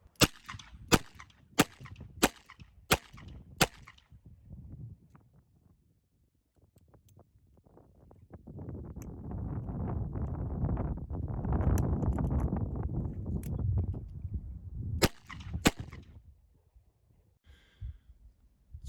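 Sharp metallic clicks of a full-size 4-inch-barrel revolver during a one-handed reload, a quick run of close snaps, then a broad rustling sweep against the body and a final firm click as the cylinder closes.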